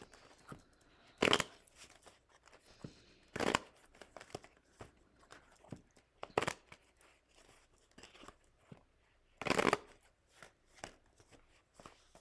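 Tarot cards shuffled in four or five loud, short riffling bursts spaced a few seconds apart, with faint handling rustles between them and no voices.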